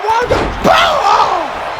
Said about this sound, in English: Caught him in a powerbomb.